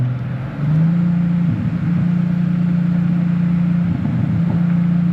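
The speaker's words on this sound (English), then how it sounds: "Some nice pops from the exhaust." A Chrysler Crossfire SRT-6 sports car engine drones steadily at close range, with a few brief crackling exhaust pops standing out against the exhaust note.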